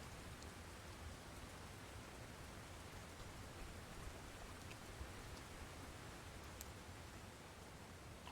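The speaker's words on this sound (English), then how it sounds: "Oh, the rain's going away. Oh, no, it's just light rain now." Light rain falling in the fishing video game Russian Fishing 4: a soft, steady hiss that continues unbroken and without variation, faint and even throughout, with no voices.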